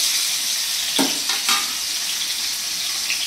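Tomato pieces fry in a tablespoon of oil in a kadai, giving a loud, steady, close sizzle throughout, with a few brief stirring scrapes near the middle and no voices.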